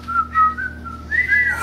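A child's clear, wavering whistle with a gliding pitch that rises and falls over a couple of seconds, close by, with a faint steady hum underneath.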